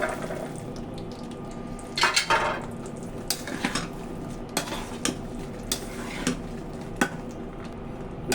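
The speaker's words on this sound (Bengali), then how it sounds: "এখন হচ্ছে আমি তেলের মধ্যে মরিচগুলো দিয়ে দিব।" Chilies and garlic for pickle frying in oil in a pan, a low sizzle under repeated sharp clinks and scrapes of a spoon stirring against the pan.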